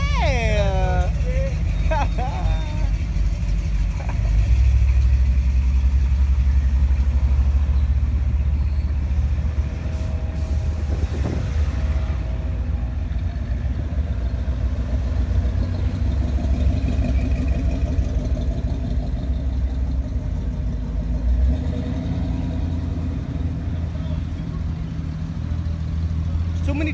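Chevrolet C10 pickup trucks roll out of a park with a steady rumble of engines passing nearby, punctuated by a brief air-brake hiss and squeal, while people talk over the traffic noise.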